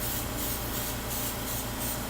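An airbrush sprays chameleon paint with a continuous, dense, even hiss lasting the whole stretch, steady and close with only slight pulsing, no talk.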